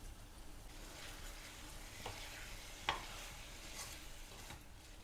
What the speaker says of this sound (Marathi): आता मी त्यात गूळ टाकते.